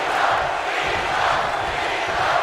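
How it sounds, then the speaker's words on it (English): A wrestling arena crowd in the WWE 2K video game roars and cheers in a dense, continuous swell, loud and sustained with no distinct voices standing out. "This crowd is trying to rally behind John Cena"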